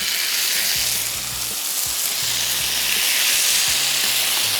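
Beef shashlik skewers fry in hot olive pomace oil, giving a steady, loud, dense sizzle with a few low clunks of the sticks shifting in the pan, and no voices.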